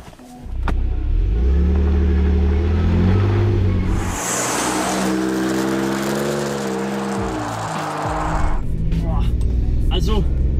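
2017 Ford F-150 Raptor pickup engine revving as it pulls away and drives, a steady loud rumble with rising pitch swells and a brief lull midway, with someone talking inside the cab.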